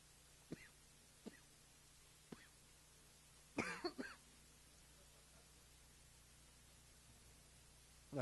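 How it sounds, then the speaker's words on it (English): A single person's deliberate, staged cough bursts out mid-clip, preceded by a few faint throat sounds, in a quiet room with no talking. "That cough was an act."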